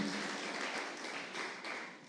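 A church congregation at a Sunday service applauds, a dense, steady wash of many hands clapping together that holds at an even level throughout.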